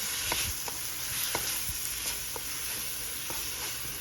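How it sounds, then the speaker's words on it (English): Food for broccoli cheddar soup fries steadily in a pan, a soft continuous sizzle with faint scattered crackles and occasional stirring clicks, heard alone at low volume. "So we're just gonna fry this up."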